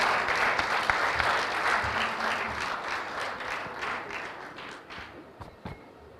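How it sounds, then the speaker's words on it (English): Applause from the audience at a youth capital market forum in Kigali, a dense crowd clapping that starts full and gradually thins out, with a few scattered claps and thumps near the end. "Let's clap for Didier."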